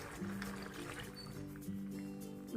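Milk is poured into a pot of water for Odia sweet simei, a soft, steady liquid trickle and fill that stays faint and close, with no talking.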